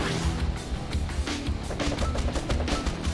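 Scatter shot weapon in the mech shooter Swarm Grinder fires in a dense, continuous barrage of rapid gunfire bursts layered over busy game effects, loud and sustained throughout.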